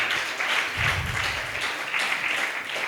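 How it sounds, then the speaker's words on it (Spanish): A church congregation claps in praise to the Lord, with loud sustained clapping that swells in waves, no speech over it. "dale fuertes palmas de alabanza al Señor Todopoderoso"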